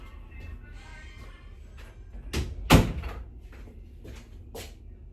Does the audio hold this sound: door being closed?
yes